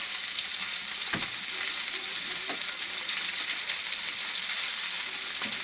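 Fish sizzles steadily in hot oil over a wood fire, a dense continuous frying hiss with a few faint clinks and stirring sounds, close and without voices.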